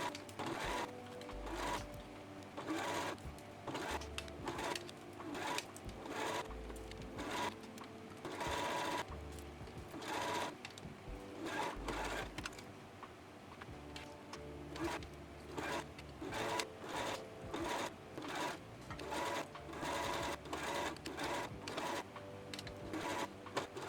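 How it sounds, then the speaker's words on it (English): A sewing machine top stitching knit fabric runs in repeated bursts, with steady fast needle chatter broken by short pauses and low thumps, close and alone throughout. "Please make sure you pull the neckline and hem a bit when top stitching."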